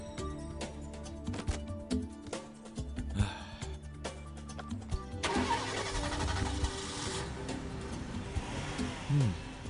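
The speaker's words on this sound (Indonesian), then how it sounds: "Aku ingat suara itu. Mesin tua yang bagus." An old car engine in a cartoon cranks and sputters unevenly, then catches and runs with a rough, rumbling idle, moderately loud in a busy animated soundtrack.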